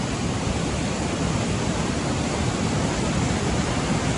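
Sea water surges and crashes against a cliff face before high tide, a loud, continuous broadband roar of churning water that holds steady throughout with no voices.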